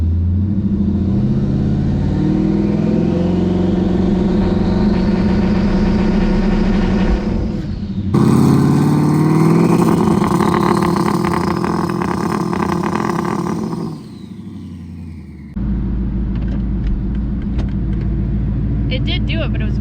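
A twin-turbo Ford Mustang engine revs hard against a trans brake, loud and continuous. The pitch climbs, then drops off as the throttle is released. Speech can be heard over the engine.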